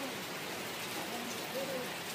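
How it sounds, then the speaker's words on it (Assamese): Steady rain falls outdoors among fruit trees in Northeast India, a dense, continuous hiss that stays even throughout, with faint voices barely audible beneath it. "এনেকুৱা বৰষুণ দিছে"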